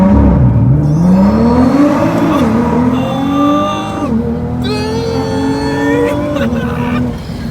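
A Nissan GT-R's VR engine revs and accelerates hard, a loud continuous rising and falling engine note with gear changes, close and dominating throughout.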